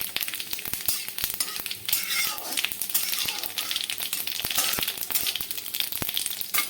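Dried red chilli and cumin seeds frying in hot oil in a pan, with a steady close sizzle dotted with sharp crackles and pops throughout.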